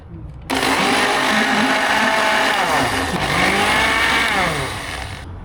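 A mixer grinder whirs loudly and steadily as it blends dragon fruit with sugar for halwa, its motor pitch dipping and rising under the load for several seconds before easing off, heard close with no talking over it.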